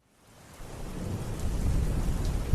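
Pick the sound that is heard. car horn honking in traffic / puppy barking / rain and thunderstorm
rain and thunderstorm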